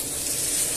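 Water poured into a cooking pan while making chunky pork pasta, a steady, fairly loud broadband splash and hiss with a faint sizzle, continuous for under a second with no talking.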